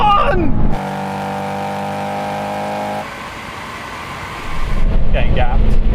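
Honda S2000 VTEC engine in a drag race against a Toyota 86 and Mazda NC Roadster, a loud sustained droning rev that holds, then drops away before another engine roars up, with a voice heard in between.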